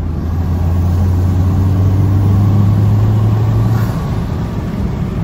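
Car engine fitted with a turbo intake pipe, pulling hard under acceleration at highway speed, a loud, continuous drone with a low tone that holds and then drops away, mixed with heavy wind noise.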